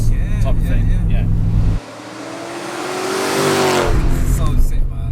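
Supercharged 4.4-litre V8 in a BMW E30 Touring, heard from inside while driving: a loud droning engine cuts off during a gear change, then rises again in a building rev as the car pulls hard. Voices talk over it.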